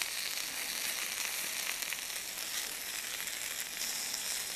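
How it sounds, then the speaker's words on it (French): Chicken and beef yakitori skewers grilling on a barbecue, a steady, dense sizzle and crackle of fat that stays even throughout, close and without speech. "on va faire griller nos petits yakitori ici"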